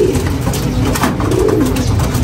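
A homing pigeon, just returned home from Javier, Leyte, coos close and loud, a low rolling burble repeated through the moment, with no talk over it.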